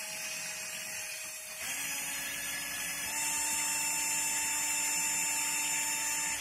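Power drill spinning to twist wire for a fused Clapton coil, a steady mechanical whine that shifts pitch upward twice as the speed rises, continuous and close.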